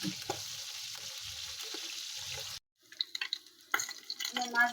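Desi tengra fish fry in hot oil with a steady hiss that abruptly cuts off, followed by irregular clatters and crackling sizzles as the pan is handled.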